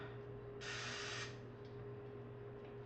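A short hiss of Pam cooking spray coating a measuring cup, about three-quarters of a second long, close by over a quiet hum.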